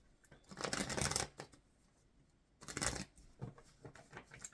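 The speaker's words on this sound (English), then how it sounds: "I'll give them one shuffle." Two bursts of crisp riffling as a deck of cards is shuffled up close, separated by a quiet pause, with a few lighter taps afterward.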